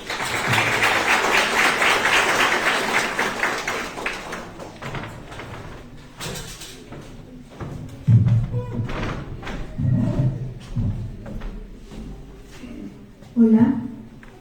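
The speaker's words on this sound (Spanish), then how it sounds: "Brinda el aplauso." An audience at a school oratory contest gives a burst of applause for a participant; the clapping is strongest at first, then fades into scattered thumps, footsteps and shuffling, with someone speaking briefly afterward.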